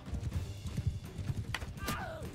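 A horse in Mount & Blade II: Bannerlord gallops with rapid, muffled clip-clop hoofbeats in a steady rhythm, followed by a short whinny-like cry near the end.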